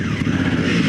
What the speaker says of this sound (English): we're going to drag race the Africa Twin against a 990 KTM